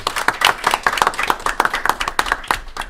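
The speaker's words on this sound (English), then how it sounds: "a round of applause for all of our players" Small audience clapping for the players at the close of a tabletop role-playing game session, a few distinct hands giving brisk, uneven claps for about three seconds with no talking.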